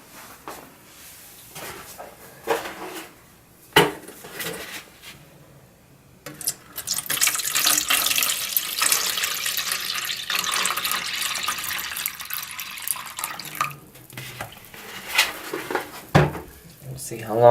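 A rusty antique Plumb hatchet goes into a container of vinegar, and liquid sloshes and splashes for several seconds. Someone talks before and after.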